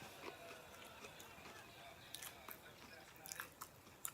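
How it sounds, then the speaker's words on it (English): Crunchy bites into a lunch sandwich filled with french fries, a few crisp crunches and chewing close to the mic, quiet, with a faint voice now and then. "Listen to this crunch. Crunchy sandwich."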